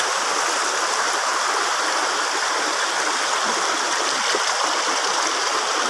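A river runs steadily in the wild beside a spring with large rocks, its broadband rush and gurgle continuous and fairly loud throughout, with no voices over it.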